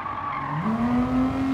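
A 1970 Nissan Skyline Hard Top 2000 GT-R brakes hard on a Gran Turismo 7 track, its engine note dropping then a sharp rising tire squeal taking over, loud and near with no talk.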